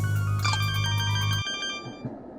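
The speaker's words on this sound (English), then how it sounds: "Can you answer your fucking phone?" A phone ringtone in a video game rings with a bright, repeating electronic melody over a low hum, then cuts off abruptly partway through, leaving a quieter fading tail.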